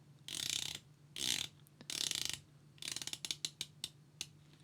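A 120-click unidirectional ceramic bezel on a 38mm Phoibos Narwhal 200M automatic dive watch turns in several crisp, loud ratcheting bursts, ending in a run of distinct separate clicks, close up with no talking.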